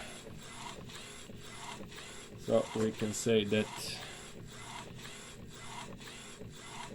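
A DTG direct-to-garment printer, model 1400/1390, runs after a repair with steady rhythmic mechanical passes and a brief louder burst of carriage or ratchet-like clatter midway, while someone speaks over it.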